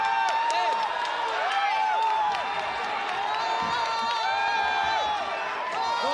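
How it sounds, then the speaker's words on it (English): A Muay Thai fight crowd at Siam Stadium cheers wildly with rising and falling shouts and whoops, loud and continuous, with a voice or two calling out over the roar. "Crowd going wild."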